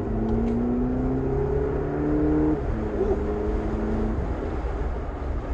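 A 2022 Volkswagen Polo GTI, front-wheel drive and set to sport mode, accelerates on an open road. The engine note climbs in steady rising tones, drops at a gear change, then climbs again under the cabin hum.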